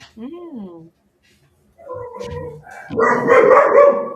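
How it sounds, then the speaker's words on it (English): A dog barks close by in short bursts, mixed with a person's talking, after a brief quiet pause. "Eric started off, now Denver's barking."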